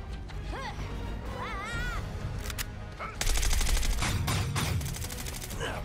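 Rapid gunfire erupts in Suicide Squad: Kill the Justice League, a sustained burst of shots after someone talks, continuing loud and close with crashing impacts.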